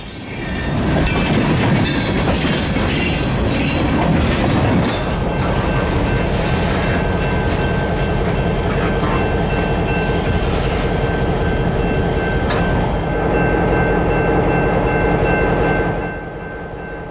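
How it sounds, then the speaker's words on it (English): An SD40-3 locomotive moves a cut of Norfolk Southern freight cars into a rail yard in Jacksonville, a loud, close, continuous rumble with engine drone, wheel noise and metallic squeals that fades near the end. "the SD40-3 stumbles into the yard to drop a cut of NS equipment."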